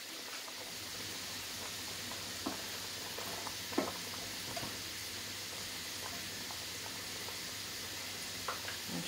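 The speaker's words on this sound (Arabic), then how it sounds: "نخلو لاصوص نتاعنا تتجمر شويه" Chicken tajine sauce simmers in a pan, giving a soft, steady bubbling sizzle with scattered small pops and ticks throughout, fairly quiet and without any talk.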